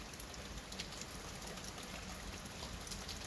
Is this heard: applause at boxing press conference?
no